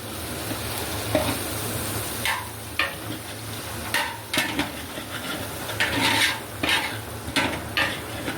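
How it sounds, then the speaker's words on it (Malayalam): Carrots fry in a pan for a pineapple kesari, with a soft sizzle under intermittent scraping and stirring strokes of a spoon against the pan. "ക്യാരറ്റ് ഒന്ന് ഫ്രൈ ആക്കാം"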